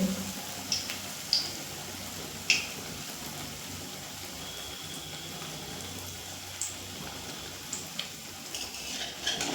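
Pumpkin flower pakoras in batter frying in hot oil, a steady soft sizzle running throughout with a few small pops and clicks near the start and no talking.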